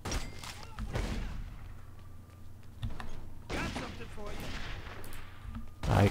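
Gunfire is exchanged with police in The Godfather II, with bursts of shots and thumps that come and go at moderate distance and voices mixed in between.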